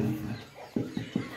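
A chicken clucks softly in a home setting, three short clucks in quick succession after a brief stretch of low background noise.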